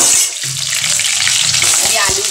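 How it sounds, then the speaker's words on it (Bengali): Potatoes frying in a pan for a Bengali home-style dish give off a steady, close hiss of sizzling oil that runs without a break, with a few soft low clatters near the end. "এই আলুগুলো আগে কড়া করে ভেজে নেবো"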